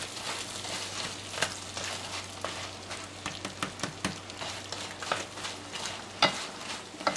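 Chicken browning in a pan for a chicken and wild rice casserole produces a close, crackling sizzle with scattered pops and spatters and occasional stirring clatter throughout.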